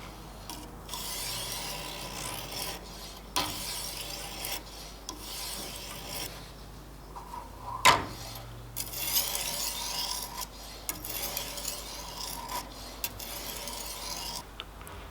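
Knife blade drawn in repeated rasping strokes across the 1000 grit stone of a TSPROF sharpener, quiet scraping passes with short pauses between them and one sharper knock midway.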